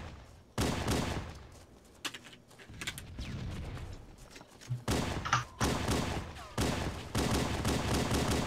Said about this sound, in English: God, that shotgun is loud!